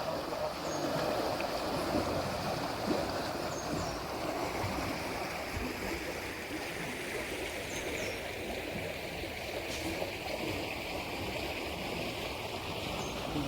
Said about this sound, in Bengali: জল কমলেও এখনো এই কুমার চোখের সুইচ গেটের পাশ দিয়ে জল বেরিয়ে চলছে